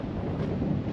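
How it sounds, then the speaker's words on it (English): Gale-force wind batters a microphone on coastal cliffs along the Nullarbor, making a loud, steady, low buffeting roar throughout with no voices. "it's just gale force winds here"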